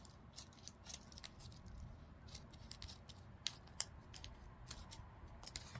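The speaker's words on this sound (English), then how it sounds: "Let's cut this off." Scissors cutting through material for a glamorous DIY craft project, a quiet series of crisp snips at an irregular rhythm, with one or two sharper clicks, close by and without talk.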